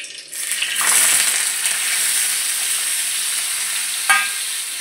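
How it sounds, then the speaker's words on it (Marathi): Washed, squeezed bitter gourd (karela) hits very hot oil with a loud, steady sizzle that holds throughout, and a fresh hiss flares near the end. "आता आपलं तेल कडक तापलं आहे, तर हे कारलं आपण त्याच्यामध्ये टाकून घ्यायचं"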